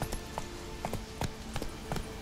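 A horse's hooves clip-clop in The Witcher 3, a steady walking rhythm of soft thuds over constant ambient game noise.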